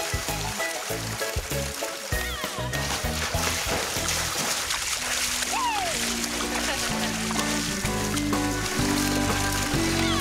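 Horses splash and play in water, with continuous splashing and stirring water close by, while people talk over the noise throughout.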